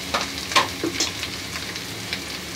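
Broken potato pieces fry with turmeric in a pan for samosa filling, a soft steady sizzle with a few scraping stirs and clinks, quiet and close, no talk.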